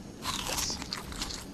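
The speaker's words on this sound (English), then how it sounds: "I ate Moja berries." Crunchy biting and chewing from eating berries in ARK Survival Evolved, a short burst of close, crisp crunches.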